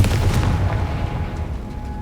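A Confringo blasting spell explodes in Hogwarts Legacy, a loud deep boom at the start with a rumbling crackle that gradually fades away.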